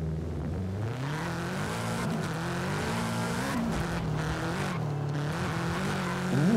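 Engine of a small car driven in Forza Horizon 5, a steady droning hum with gear shifts and pitch rising and falling, revving up sharply near the end, close and continuous with no talk.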